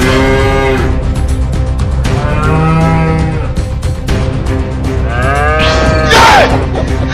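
Loud, drawn-out cow moos repeat over a dense noisy background, several long lowing calls back to back with a higher strained cry near the end.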